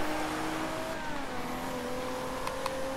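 A racing car engine in Forza Horizon 2 on Xbox One drones steadily at a moderate distance, its pitch holding and shifting slightly, with a couple of brief high clicks near the end.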